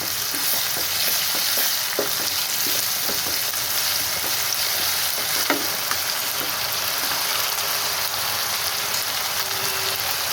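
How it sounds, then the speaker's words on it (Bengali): Tomatoes and salt sizzle and fry in hot oil for chicken fry biryani, a continuous close crackle with a spoon scraping and stirring at irregular intervals, and no talk over it. "টমেটোটা দিয়ে ভালো করে একটু নাড়াচাড়া করে নিতে হবে আর দিয়ে দিলাম স্বাদ মতো নুন"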